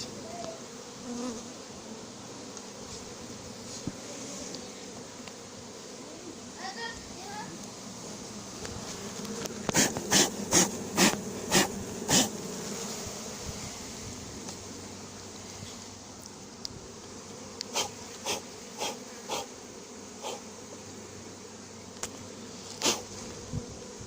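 A honeybee swarm being collected into a cardboard box on the ground, with a continuous dense buzzing throughout, punctuated midway and later by a series of sharp clicks or knocks close by.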